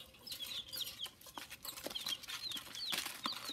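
Small pet birds, likely chickens or similar fowl, cluck and chirp softly in short repeated calls with light shuffling movement, close by and fairly quiet, no one talking.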